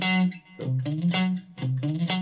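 An electric guitar run through distortion and effects plays a rockabilly riff: sustained, buzzy low notes with quick hammered-on changes, loud and close with no voice over it.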